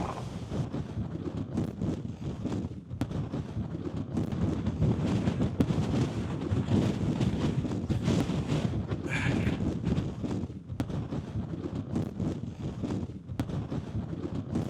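Strong wind buffets the microphone on the Cornish coast, a loud continuous rumbling roar with gusty surges throughout and no voices.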